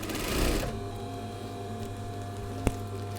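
An industrial sewing machine runs steadily, stitching the top curved seam of a sun cape, with a loud burst at the start and one sharp click near the end.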